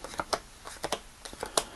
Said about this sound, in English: perform an LR shuffle on the right pile